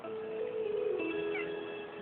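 A cat meows a few times, drawn-out and fairly soft, heard alone indoors with no talking.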